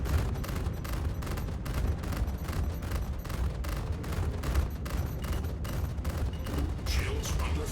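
Ship shields on a Star Citizen spacecraft take gunfire during a space fight: rapid, evenly spaced impacts pound throughout over a rumbling low drone, loud and close, with short voice callouts mixed in.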